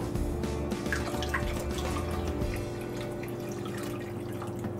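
A cup of water pours into a soup pot as a continuous, close splashing stream with dripping texture, easing slightly in the final seconds.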